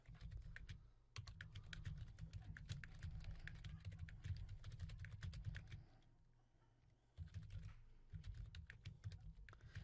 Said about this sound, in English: you're going to place your mouse in the box and begin to type